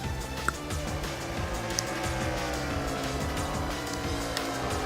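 Sprint cars racing around a dirt track in a Lucas Oil series event, engines droning continuously with rising and falling pitch, a dense steady roar without clear separate passes.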